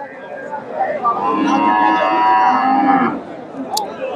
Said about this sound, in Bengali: এখানে একটা দেশি গাভী দেখতেছি, বেশ বড়সড় একটা গাভী